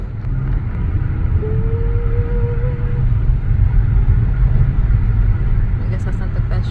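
Steady low rumble of a car cabin in motion along a coastal town street, with continuous road and engine noise throughout and people talking over it.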